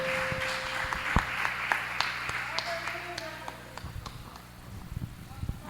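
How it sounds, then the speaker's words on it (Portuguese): A church congregation claps during a worship service, with sharp scattered hand claps and voices heard through the room. "Que as palmas exaltam o nome do Senhor Jesus."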